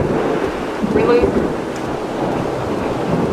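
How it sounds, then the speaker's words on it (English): A violent thunderstorm rages outdoors: rumbling thunder rolls through a steady wash of rain, heard fairly loud from indoors. "Really bad thunderstorm outside right now."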